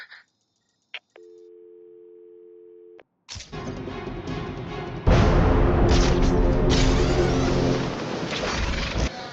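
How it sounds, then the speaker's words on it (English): In the video game Batman Arkham City, a telephone rings with one steady electronic tone lasting about two seconds after a brief beep, then loud rumbling, booming game noise takes over. "There's a phone ringing somewhere."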